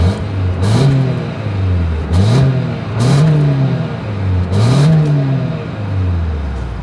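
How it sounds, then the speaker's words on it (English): A 2024 Toyota Highlander SUV engine revs up and down four times in a regular pattern, each rise ending in a brief roar from the exhaust, loud and close. "As always, here is that exhaust clip."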